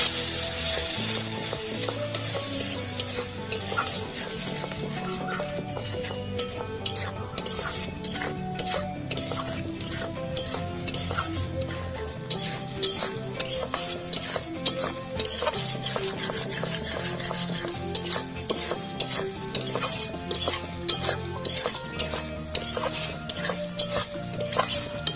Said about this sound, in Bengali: লঙ্কার গুঁড়ো, ধনে জিরে, গোলমরিচ গুঁড়ো, অল্প জল দিয়ে মশলাটা কষে নেব।